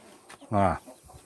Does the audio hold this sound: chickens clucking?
yes